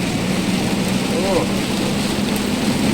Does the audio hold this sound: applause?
no